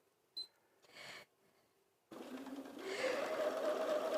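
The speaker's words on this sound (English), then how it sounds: "So the machine's stopping because we've got a light fine thread in the bobbin and it's reading it as empty" Sewing machine halting when its bobbin holds a light fine thread it reads as empty: a few short mechanical clicks and brief whirs with quiet gaps, then a rising motor whine and beeping tone, fairly faint and close.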